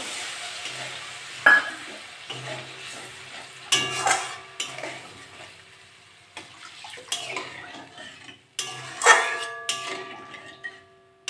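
Water poured into bubbling fried spice paste in a pan while cooking mochar dhoka, the Bengali banana flower dumpling curry, with close scraping, stirring and clinks of a utensil against the pan between louder splashy bursts.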